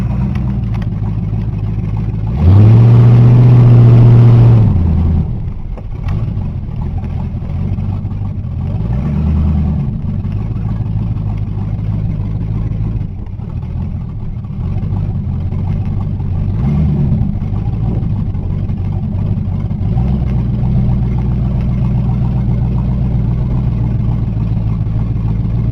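A car engine idles with a low, steady hum, then surges in a loud rev under throttle for a couple of seconds before settling back, with a few smaller throttle blips following over a continuous running drone.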